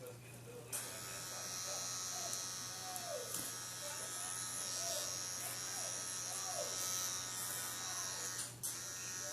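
A new Solong rotary pen tattoo machine, model EM128-1 or EM108-1, runs with a steady, close electric buzz and hum throughout. Faint voices come in under it.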